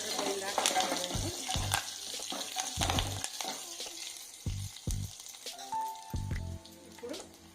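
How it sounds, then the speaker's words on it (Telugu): Curry leaves fry in hot oil for onion pulusu, giving a steady close sizzle broken by sharp crackling bursts and a few clinks as they are stirred, with no one talking. "వేగాయి తర్వాత కరివేపాకు, ఇది కూడా పచ్చి వాసన పోయిందాకా వేగాలండి."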